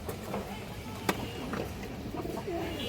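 Pigeons coo softly close by, with a few low calls and a brief sharp click over a quiet background.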